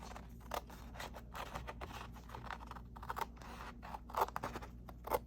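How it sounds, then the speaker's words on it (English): Scissors snip steadily through paper for a junk journal made from junk mail, a close, crisp series of quick cuts with brief pauses between them. "I'm just going to use scissors."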